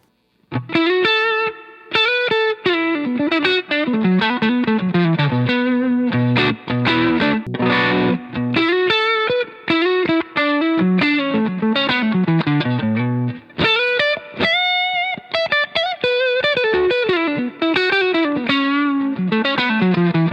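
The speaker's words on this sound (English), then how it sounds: "Add some reverb." Overdriven electric guitar through a Shinos Rocket Combo amp, soaked in reverb, playing a long flowing passage of chords and melodic lines with a lingering wash behind each note.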